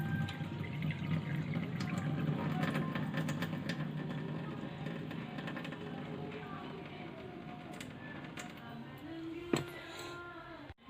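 Soaked rice for anarasa roti is swished gently in fresh water, making a soft, continuous sloshing and trickling close by, quiet, ending with a few small knocks of the container.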